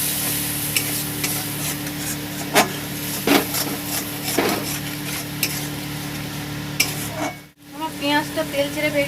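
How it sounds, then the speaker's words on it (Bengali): Onion paste frying in oil in a pan, a steady close sizzle with repeated scraping strokes as it is stirred, then a brief drop to near silence before the bubbling resumes. "পেঁয়াজটাকে আমি একটু হালকা করে ভেজে নেব"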